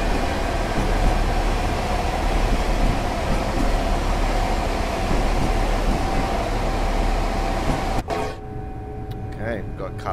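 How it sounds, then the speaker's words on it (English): A Class 385 electric train on the Edinburgh Waverley to Glasgow Queen Street express runs at speed, a steady rumbling roar and whine from onboard that drops abruptly near the end, with a voice speaking over it. "Love the sound of this loco, especially when it keeps up speed."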